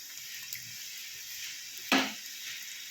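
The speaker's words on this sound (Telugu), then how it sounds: "వేసుకొని ఫ్రై చేసుకోవాలి మంచిగా" Bakery-style egg puffs deep-fry in hot oil, a steady close sizzle that flares into a sharp burst when another piece drops in, then settles back, with no talk.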